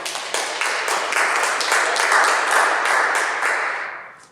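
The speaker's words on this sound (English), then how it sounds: "Round of applause to new members." Applause greets new members at a Toastmasters club meeting, a dense patter of hand claps from a room of people that swells, holds steady for several seconds, then fades out.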